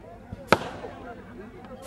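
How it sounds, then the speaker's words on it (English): Firecrackers go off on a warm July night in the Bangladesh enclaves, sharp loud cracks, one near the middle and another at the end with a fainter pop before, over a low murmur of background sound. "being marked with these firecrackers by the people of Mashal Danga"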